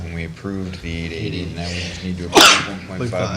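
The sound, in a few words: sneeze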